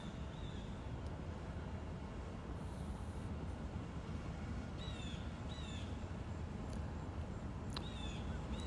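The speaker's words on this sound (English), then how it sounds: "I can hear our train rumbling down the way there" A CSX freight train rumbles faintly in the distance along the Henderson line near Hanson, Kentucky, a low continuous roar with birds calling now and then over it.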